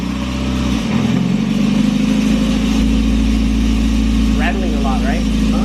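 An NA Mazda Miata fitted with an ISR exhaust starts and settles into a loud, steady idle with a deep exhaust drone and a rattling note, heard close up.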